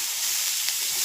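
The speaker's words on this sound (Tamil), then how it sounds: "கருவேப்பிலை கொஞ்சம்." Curry leaves sizzling in hot oil, a steady bright hiss that holds at an even level through the short moment with no talk over it.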